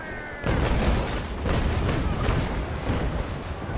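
Warship cannons fire in the naval combat game Naval Action, a heavy booming broadside rolling out at about half a second and rumbling on, with further dull blasts following in the mix.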